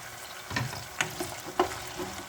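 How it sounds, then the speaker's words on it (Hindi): Potatoes cooking under a lid in a pan, with a faint steady sizzle and a few soft, brief clinks or bubbling pops spread through a quiet stretch. "हमें थोड़ा सा 1-2 मिनट के लिए इसको ढक के पकाना है आलू"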